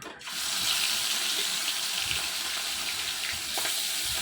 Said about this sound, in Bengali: তেলটা গরম হয়ে গেলে চিংড়ি মাছগুলো ভেজে নিচ্ছি